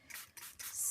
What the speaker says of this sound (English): I shall keep spraying with water